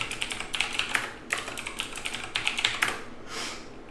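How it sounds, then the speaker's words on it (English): Soft, uneven tapping of keys on a computer keyboard while a root password is typed, close and fairly quiet, a few sharper clicks among the rest and no speech. "So let's do a passwd, type in a root password."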